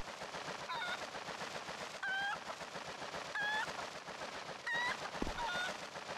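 A bird calls several times in repeated rising squawks in Zelda: Twilight Princess on GameCube, set over a dense rattling game soundscape with a thud near the end.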